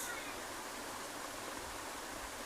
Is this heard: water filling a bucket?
yes